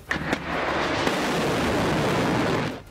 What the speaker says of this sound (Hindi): एक मिसाइल एक बिल्डिंग के ऊपर से गुजरती दिखी और फिर बेहद जोरदार धमाके के साथ फट पड़ी